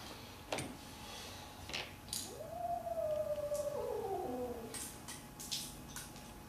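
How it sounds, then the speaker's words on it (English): A cat yowls outdoors, heard from a workshop during a VW carburetor rebuild: one long, wavering, drawn-out cry that bends up and down in pitch, moderately distant, with a few faint knocks and clicks around it. "Cat ain't happy out there."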